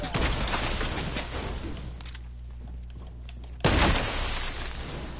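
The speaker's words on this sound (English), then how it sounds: "Long nose shotgun." Long nose shotgun fired in a video game: dense, loud blasts at the start, a quieter stretch, then another sharp, booming shot cutting in abruptly.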